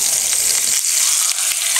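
A seaweed and egg pancake sizzles steadily in hot oil in a pan after being flipped onto its other side, a loud, continuous close frying hiss with a few faint scrapes.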